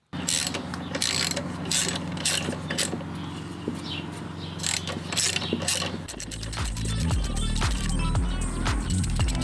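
Alternator being worked loose from a Mini engine, with steady ratcheting clicks and metallic mechanism creaks close by, shifting partway through to faster, busier ratchet strokes; no talk.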